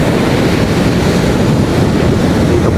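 Sea waves washing against the shore, a loud, constant roar of surf mixed with heavy wind buffeting close to the microphone, with no voices.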